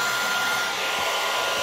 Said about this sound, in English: This is where a girl would break out her hair dryer.